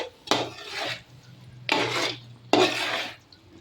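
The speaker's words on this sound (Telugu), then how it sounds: "ఈ విధంగా మసాలా చికెన్కి బాగా అంటేలాగా కలుపుకోవాలి." Raw chicken pieces cut large for biryani are mixed by hand or spoon with masala in a bowl, in three distinct wet, rasping stirring strokes separated by brief pauses, close up with no talk.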